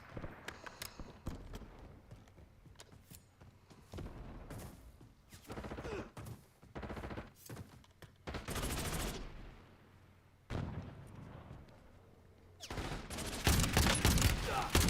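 Incoming gunfire in a combat game, repeated bursts of shots and fusillades, some close and loud and others quieter, scattered irregularly across the stretch with no talking.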